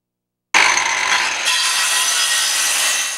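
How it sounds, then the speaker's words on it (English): A saw cuts steadily through wood at a construction site where a storm-damaged Tuscaloosa neighborhood is being rebuilt; the loud, continuous rasping starts abruptly and runs without pause, and no hammer blows stand out. "Saws buzzing, boards flying, and hammers hitting nails."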